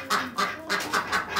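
Ducks in a farm barn quack in a quick run of about six loud, nasal calls, close by and without talk.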